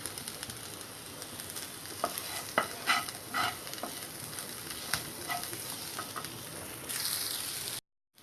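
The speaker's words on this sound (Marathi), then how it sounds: "हे हाय फ्लेमवर आपण 1 मिनिट परतून घेतलं आहे." Pizza topping is sautéed with black pepper and herbs in a pan over a high flame, giving a steady, close sizzle. Several scraping stir strokes cut through it, then the sound stops abruptly at the end.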